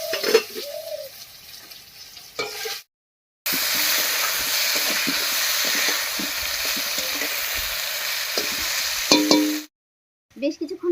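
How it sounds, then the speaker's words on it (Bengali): Potatoes fry in a covered pan on the stove, giving a steady, close sizzle that runs unbroken through the middle stretch, with brief quieter gaps and small clatters at the start and end. "ঢাকা দিয়ে দিয়ে আলুটাকে বেশ কিছুক্ষণ রান্না করে নেব"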